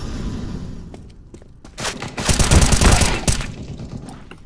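Gunshots from CS:GO in a Wingman match: scattered sharp cracks, then a dense, loud burst of rapid fire at close range with heavy thumps, tapering back to a few isolated shots.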